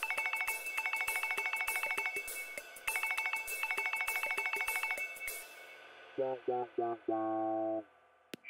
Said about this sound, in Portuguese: A primeira coisa a fazer é escolher o toque do celular.